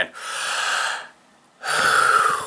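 A man imitates the labored gasping he makes during football and heavy exercise: two long, loud, raspy inhaled breaths separated by a short pause, close to the microphone.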